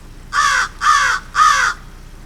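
A crow gives three loud, harsh caws close by, evenly spaced in a steady rhythm, each a raspy burst of about a third of a second against quiet background.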